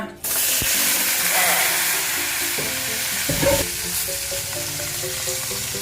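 Minced pork balls frying in butter give off a loud, steady sizzle that starts abruptly and holds throughout, with a few clanks of utensils against the pan.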